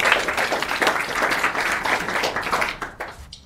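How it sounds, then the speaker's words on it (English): Audience applause for a guest talk at a Singapore Elixir meetup, a steady wash of many hands clapping that fades out near the end. "Can we have a round of applause?"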